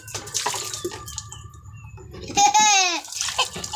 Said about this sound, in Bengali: জল পড়ছে? হ্যাঁ পড়ছে